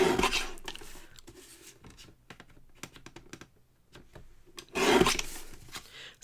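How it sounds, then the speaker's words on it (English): Paper being trimmed all the way around a card piece at a craft table, giving a run of short dry rasping and scraping strokes with light clicks between them, close and fairly quiet, with no talking. "Let me give this a trim all the way around."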